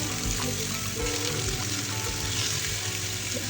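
Chicken malai kebabs fry in butter in a non-stick pan over low heat, giving a steady, dense sizzle that stays close and even throughout with no voices.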